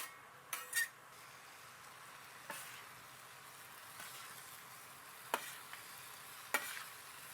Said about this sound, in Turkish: hepsini bir tekrardan karıştırmak gerek